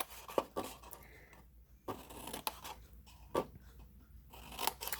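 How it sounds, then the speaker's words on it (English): Scissors cutting through a cardboard K-cup box toward the score line, a series of close, crisp snips and crunches with short pauses between cuts. "I'm going to cut all the way up to the score line."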